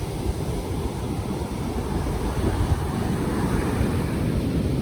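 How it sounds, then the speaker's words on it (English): Huge ocean waves break and roll in a steady, loud wash, with gusting wind buffeting the microphone throughout and no other clear sounds. "But those waves are huge."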